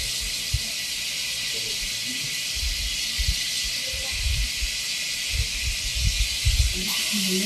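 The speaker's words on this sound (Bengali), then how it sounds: "এবার আমি চিকেনগুলো দিয়ে দেবো।" Chicken pieces hit hot masala that has released its oil in a pot, giving a steady loud sizzling hiss with soft stirring thumps, while a person talks.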